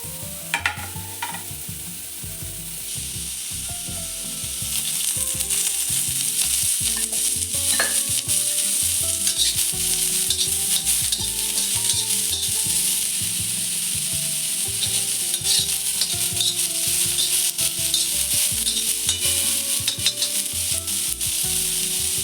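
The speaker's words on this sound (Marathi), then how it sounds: "त्यासाठी मी कांदा घेतलेला आहे मध्यम आकाराचा खोबरं घेतलेलं आहे आणि थोडेसे धणे घेतलेले आहे आता हे आपण भाजून घेऊयात" Medium onion, coconut and coriander seeds dry-roast in a pan for a mutton curry, a continuous sizzle with constant rhythmic scraping of a spoon against the pan, growing louder after the first few seconds.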